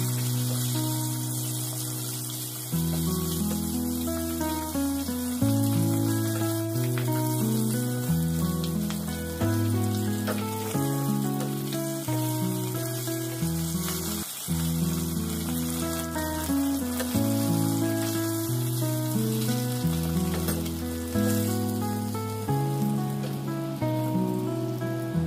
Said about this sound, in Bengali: মাছগুলো আমি ফ্রাই করে নিয়েছি।